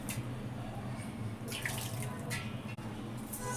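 Water pours into a bowl while preparing idli batter, a continuous splashing trickle with a few louder gushes, close and fairly quiet.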